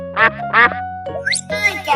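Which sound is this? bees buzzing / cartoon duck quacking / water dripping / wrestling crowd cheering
cartoon duck quacking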